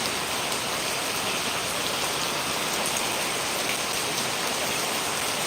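Heavy monsoon rain pours down onto a home courtyard in Kerala, a dense, steady hiss of water hitting surfaces that never lets up.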